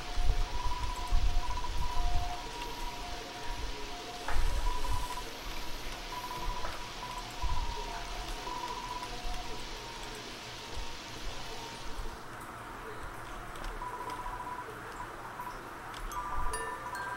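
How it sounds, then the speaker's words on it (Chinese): Steady rain falls in the Undertale game, a dense continuous hiss that runs throughout and thins out partway, with soft tonal chimes sounding over it. "哇，真下雨哎！"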